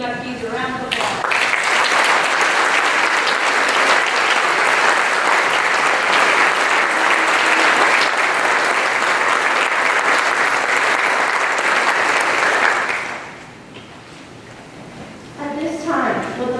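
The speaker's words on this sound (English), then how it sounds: "Go ahead and give the inductees a round of applause." A high school audience applauds National Honor Society inductees at an induction ceremony, giving loud, dense, sustained clapping for about twelve seconds before it fades, with a voice speaking briefly at the start and end.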